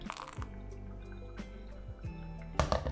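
Water trickles and drips softly through a coffee bed in a Chemex pour-over, quiet and steady with a brief louder splash near the end and no talking.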